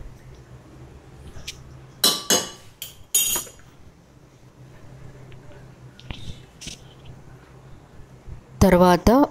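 Utensils clinking and scraping in a pan as chicken fried rice is stirred with soy sauce and vinegar, a few sharp metallic bursts under a voice.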